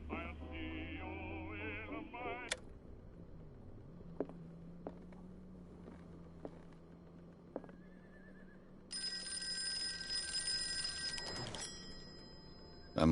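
Telephone ringing in the horror video game Call of Cthulhu, a steady electronic ring rising after a quiet stretch of low hum, loud and sustained with no talk over it.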